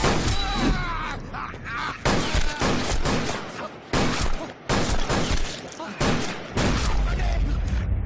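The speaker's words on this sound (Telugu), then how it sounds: "రేయ్, ఎవర్రా షూట్ చేస్తున్నది?" Gunfire fills a Telugu action film scene: dense, loud volleys of sharp cracking shots and booms arrive in repeated bursts, with voices mixed into the chaos.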